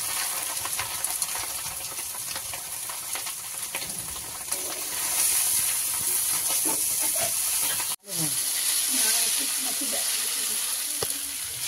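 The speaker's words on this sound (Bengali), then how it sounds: "এবার চাউমিনটা নাড়াচ্ছে" Boiled chow mein noodles are being stir-fried with vegetables, giving a steady close sizzle and hiss with faint scraping under it, briefly cut off near the end before resuming.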